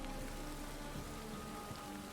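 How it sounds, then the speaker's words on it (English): Rain pours steadily in The Witcher 3, a soft, even hiss of drops on surfaces with faint scattered patters, fairly quiet and continuous with no voices. "it's getting covered in rain."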